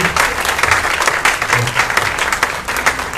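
Congregation clapping during a Sunday church service, a dense, steady burst of applause that fills the room throughout.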